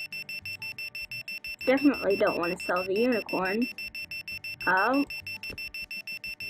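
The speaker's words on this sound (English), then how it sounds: "That sound is just so annoying." A continuous pulsing electronic alarm in the Roblox game Bloxburg, steady high beeps running the whole time beneath a person talking in the middle.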